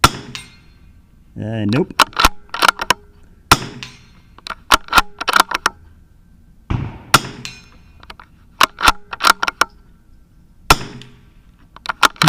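Shots ring against a steel target fitted with a Caldwell Flash Bang hit indicator, making sharp metallic clangs spaced irregularly, loud and close, with a brief spoken word between impacts.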